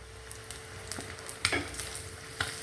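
Egg fritters sizzle and crackle in hot oil with a steady frying hiss, broken by sharp utensil taps and stirring clinks at irregular intervals, close and clear with no voices.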